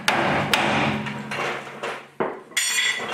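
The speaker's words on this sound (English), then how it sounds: "this is my preferred method. Impact guns and massive hammers." Hammer blows knocking track rod ends off a car's suspension upright on a budget hatchback race car build, several sharp metallic strikes spaced irregularly with ringing decay between them, close and loud.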